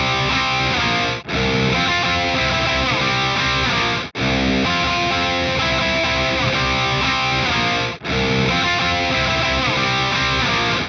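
Dense, heavily distorted electric guitar riff from a song, played continuously at full volume, with brief gaps where the phrase restarts, first at a slower tempo and then at full speed.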